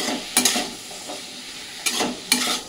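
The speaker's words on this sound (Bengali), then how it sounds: "1 চামচ গুঁড়ো হলুদ দিয়ে ভালো করে এটা মিশিয়ে নেব" Ground cumin, chili and turmeric with salt being stirred into vegetables frying in a pan without water: a steady low sizzle broken by three short scraping stirs of the spoon, close and alone.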